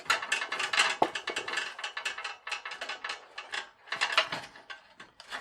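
A bicycle wheel with a coaster brake hub is turned over, and the hub gives dense, rapid ratcheting clicks up close that run almost continuously, swelling and easing as it moves.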